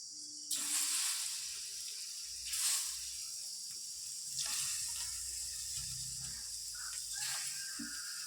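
Eggs frying in a hot pan with curry leaves give a steady, quiet sizzle that swells into louder hissing bursts as each piece is dropped in, with faint clinks between.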